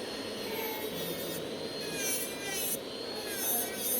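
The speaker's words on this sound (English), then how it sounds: "I'm never filing too long in the same place." A hand file rasps steadily across gel nail extensions during removal, a continuous close scratchy friction with slight swells in intensity and no talking.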